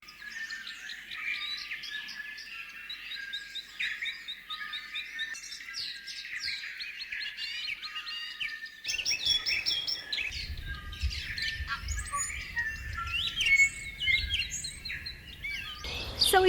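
Several small birds chirp and twitter continuously, bright overlapping calls close by, with a low rumble of background noise joining partway through.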